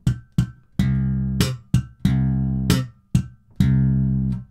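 Low plucked bass guitar notes, each short and damped with the fretting fingers muting the string, played in a steady pattern of about eight notes with brief gaps between them; no voices.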